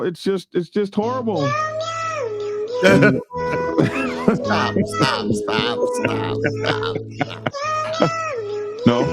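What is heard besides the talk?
cat singing meowing, played recording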